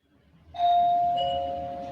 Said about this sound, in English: Kristen, ring the doorbell